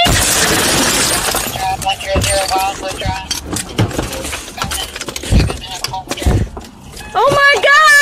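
Glass shatters during property damage in a confrontation. Loud crashing and breaking noise is tangled with shouting voices and scattered impacts, and the sound swells again in a dense burst near the end.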